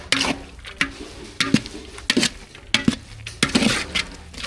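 Metal spoon scraping and clinking against a pot as sambar with ground coconut, fennel, cumin and green chilli paste is stirred, with mango, drumstick and brinjal pieces in it; repeated close knocks and scrapes, no talk.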